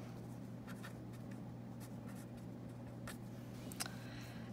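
Pen scratching on paper, a faint run of short, irregular strokes over a steady low background hum, with no voices.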